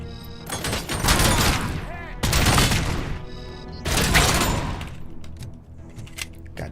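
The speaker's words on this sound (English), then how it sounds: "this fucking gun is so powerful" Three heavy bursts of powerful gunfire from a RoboCop video game, each a loud sustained barrage of booming shots lasting about a second and a half with echoing tails between.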